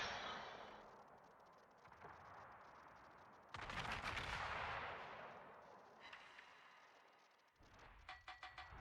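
Big naval guns boom in a World of Warships naval battle, with a broad blast around the middle, a rumbling tail, and a quick cluster of sharp reports near the end, all loud and without voices.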